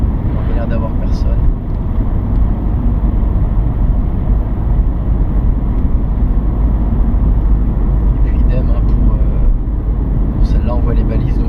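A car engine drones steadily from inside the cabin during a driving lesson near Gex and Vesancy as the driver eases off the accelerator, a constant low rumble with speech over it.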